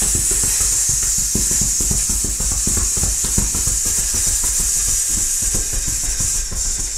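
A steady breathy hiss of a long exhalation, the Qigong lung sound, continuous and close with no speech.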